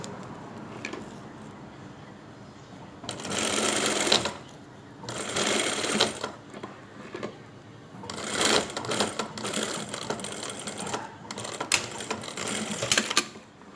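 A sewing machine stitches down the hem of a tracksuit trouser leg, running in several bursts of rapid, steady mechanical clatter separated by short quiet pauses, close and clear.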